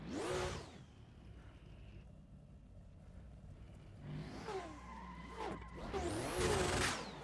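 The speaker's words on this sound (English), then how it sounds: "That car is so loud." Drift cars in a racing game scream past in tandem with whining engines and squealing tires, bursts of revving rising and falling between quieter stretches of engine hum.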